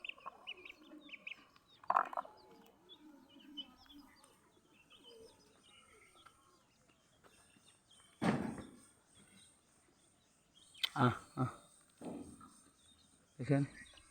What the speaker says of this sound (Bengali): দেখতে পাচ্ছেন আমার পালক কবুতর কি করতেছে।